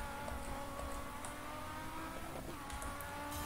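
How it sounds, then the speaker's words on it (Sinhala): Audi rally car engine in the racing video game DIRT 3, a steady high-pitched buzz at low volume with faint tire noise, continuous without pauses. "මේ ඔඩි සද්ද නම් මරු."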